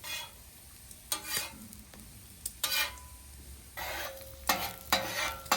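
Jalapenos sizzling in hot bacon grease on a flat-top griddle, with a steady low frying hiss broken by several louder bursts of stirring and scraping, close and free of talk.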